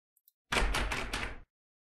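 A door opening in the video game Scratches: a short burst of wooden knocking and creaking thuds lasting about a second, close and alone after two faint clicks.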